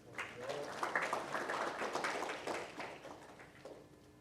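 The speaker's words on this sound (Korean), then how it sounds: "다시 한번 김영기 원장님께 감사의 박수 부탁드리겠습니다." Audience applause of thanks at a policy forum on Gwangju's strategic industries, a steady wash of clapping from a seated crowd lasting several seconds at moderate level, with some voices mixed in.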